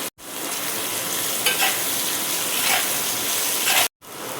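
Chopped onion and ginger for upma sizzle and crackle steadily in a hot pan, close and continuous, with a few short stirring scrapes.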